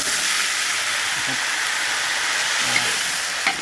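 Water splashed into a hot wok of Chinese kale stems with salted fish bursts into a loud, steady steam hiss and sizzle, continuous and close, with a faint clink or two.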